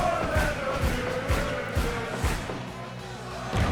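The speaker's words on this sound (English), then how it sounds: "I am shaken by just how loud the crowd is" A loud wrestling crowd roars and cheers in an arena, rhythmic swelling bursts of noise with a brief rising whistle-like tone over the din, steady and close throughout.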